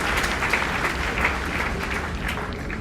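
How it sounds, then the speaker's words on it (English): Sustained applause from a hackathon audience, a steady wash of many hands clapping at moderate loudness for the whole stretch with no voice over it. "So big round of applause for your courage to come up and solve this statement."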